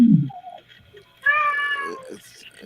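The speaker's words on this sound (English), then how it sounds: "Sound like somebody cat is in heat." A domestic cat yowls as if in heat: a short low cry, then a long wavering, strained wail that rises and falls before trailing off, loud and close with no talking.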